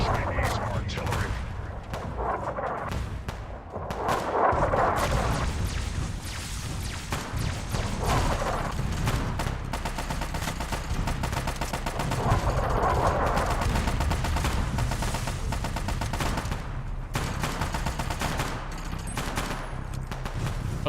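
Video-game combat with sustained gunfire and artillery blasts, dense crackling volleys and heavy booming impacts rolling on continuously for about twenty seconds with no break.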